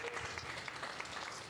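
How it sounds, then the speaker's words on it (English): Brief audience applause at a Toronto crypto and blockchain panel event, a dense, fairly soft patter of many hands clapping heard from a distance, with no talking. "Round of applause."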